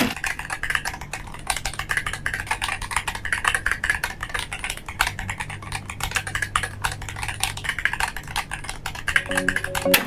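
Rapid, continuous typing on an Aula Win68 HE Max magnetic mechanical keyboard, dense clicky keystrokes close up with a faint low hum underneath.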